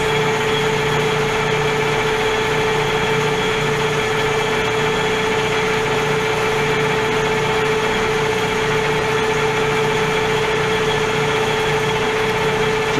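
A metal lathe turns slowly at 44 RPM while a nut is prepared for four-start threads, producing a loud, steady motor hum and whine that holds unchanged throughout, with no voices.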